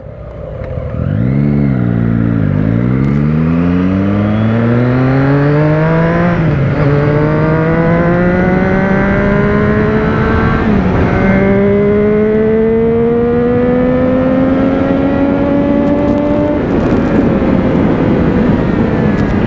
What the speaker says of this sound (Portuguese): minha moto tá nervosa